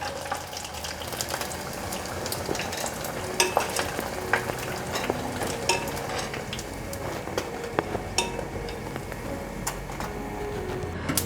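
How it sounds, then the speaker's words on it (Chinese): Oyster mushrooms deep-frying in oil bubble and crackle continuously, with scattered sharper pops and spits throughout, close and steady. "翻面了，再让它继续炸"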